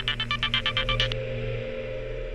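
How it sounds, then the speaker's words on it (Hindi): An electronic phone ringtone chirps in a quick repeating pattern for about a second, then stops, leaving a low steady hum. "एक मिनट, सुदेश का फोन है।"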